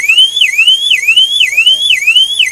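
A vehicle security alarm blares at an auto auction lot, a loud siren that sweeps upward and drops back roughly twice per second, repeating steadily and close by.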